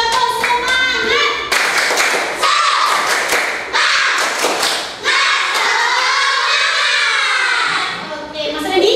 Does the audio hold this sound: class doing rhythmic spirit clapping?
yes